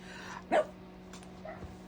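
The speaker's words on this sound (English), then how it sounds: "my dog is barking in the background because that's what they do at this time of day" A dog barks indoors in the background, one short clear bark followed by a couple of fainter yips over a steady low electrical hum.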